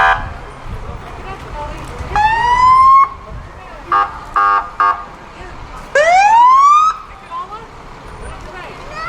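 A fire truck siren wails in loud rising sweeps, interrupted by short blasts of a horn, as the truck passes close by in a parade.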